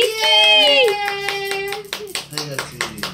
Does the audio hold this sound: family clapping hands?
yes